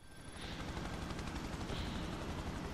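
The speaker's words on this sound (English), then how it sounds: "I'm in a heli already." Helicopter in the video game Prototype, a dense, steady rotor chop and engine roar that fills the whole stretch at a constant level, with no talking.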